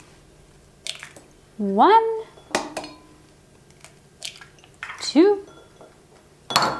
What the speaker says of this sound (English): Into our separate bowl, we're going to crack 3 eggs.